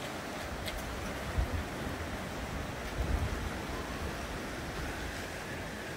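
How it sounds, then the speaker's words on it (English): Surf washes onto Bondi Beach in Sydney as a steady, broad roar of breaking waves, with a couple of slightly stronger swells rising out of the constant wash; no voices. "Bondi Beach walk."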